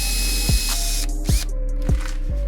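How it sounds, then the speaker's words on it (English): A drill bores out rivets during dash disassembly of a 1992 Miata, giving a steady high whine with three or four sharp bites as the bit catches and breaks through, close and alone. "you're drilling through the center section of the rivet"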